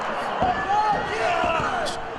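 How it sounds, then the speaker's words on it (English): A wrestler lands a splash on an opponent during a televised tag-team wrestling match, heard as a couple of dull thudding impacts under excited commentary and a faint crowd. "This is going to be some type of splash."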